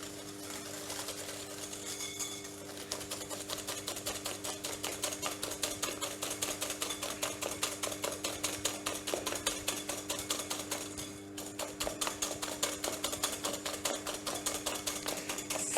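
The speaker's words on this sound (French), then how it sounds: "je commence à mélanger." Eggs and sugar are whisked together in a bowl for carrot cake batter, giving a continuous fast rhythmic whirring with a dense regular beat, steady and close throughout with no talk.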